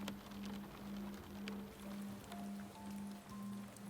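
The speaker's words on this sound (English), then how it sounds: "what remains is purely the sound of water on stone and water on leaf" Soft rain falls on stone and leaves near a village garden wall, a faint, continuous patter over a low steady hum with gentle swells, no voices.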